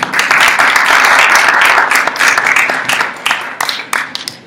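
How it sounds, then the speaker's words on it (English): An audience at a small community event claps for panelists and organizers, a dense burst of applause that stays loud and steady before thinning out toward the end. "So let's give a round of applause again to the panelists, the organizers, and everyone who filmed and produced Illegalization"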